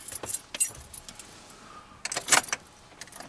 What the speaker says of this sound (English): let's turn our keys and let's see what happens